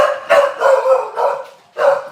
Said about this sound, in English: That's our dogs.